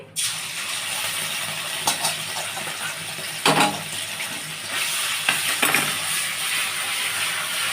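Onion paste hitting hot oil tempered with cinnamon, bay leaf and cardamom, giving a steady loud sizzle and hiss with a few sharp spatters and stirring scrapes, no talking.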